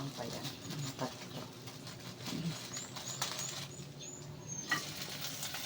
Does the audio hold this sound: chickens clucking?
no